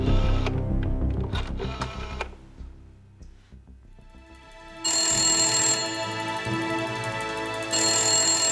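A telephone rings in a bright, repeated electronic tone that starts partway through and returns after a short pause, following a stretch of clattering mechanical noise.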